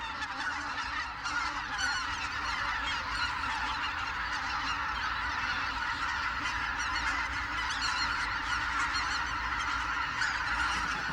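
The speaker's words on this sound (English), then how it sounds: "White-fronted geese, swans and ducks seek out the few northern lakes that will not completely freeze over." A large flock of white-fronted geese honking continuously, many overlapping calls forming a dense, steady chorus with no pauses.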